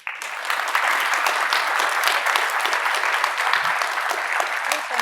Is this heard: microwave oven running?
no